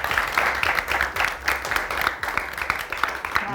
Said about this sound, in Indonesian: kasih tepuk tangan sekali lagi untuk kita.